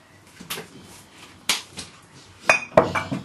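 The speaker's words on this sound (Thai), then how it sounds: "แม่ตั้งกระทะแล้วนะคะ" A metal frying pan clanks and knocks as it is set on a stove, a few sharp close impacts with some scraping in between.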